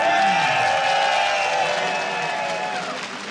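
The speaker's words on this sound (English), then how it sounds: "Can you hear all that cheering?" Large crowd cheering and applauding in an esports arena at a StarCraft II tournament in Katowice, a dense roar of claps and shouts that slowly eases off over a few seconds.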